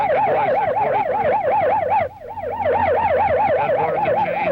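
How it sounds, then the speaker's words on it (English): A Grand Rapids, Michigan police car siren from around 1970 wails in a rapid, rhythmic yelp that cycles up and down, loud and close, with a brief dip in the middle before it resumes strongly. "Give me some siren, Dick."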